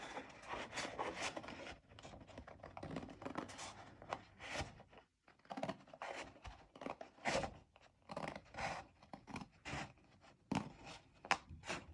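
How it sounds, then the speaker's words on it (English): Scissors working slowly through a watercolor paper bookmark, cutting it in half lengthwise, giving close, quiet, repeated snipping and crunching strokes with one brief pause partway through. "I'm going to really take my time and go slowly with the scissors. I'm just going to cut it vertically in half."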